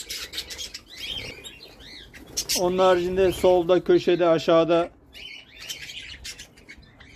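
Mixed birds in an aviary cage, including budgerigars, canaries, parrots and quail, chirp and call in a busy chorus, with a loud burst of song in the middle, under someone speaking.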